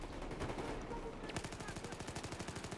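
Rapid automatic hip-fire gunfire from a gun in Battlefield 4: a steady rhythmic burst of evenly spaced loud shots fills the second half, preceded by dense battle noise.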